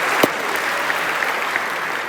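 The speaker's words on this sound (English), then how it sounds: "Let's give a big round of applause for Robert Flores." An audience claps steadily through the whole stretch at the E3 2015 Electronic Arts press show. The applause is dense and even, filling a large hall, with one sharper clap standing out near the start.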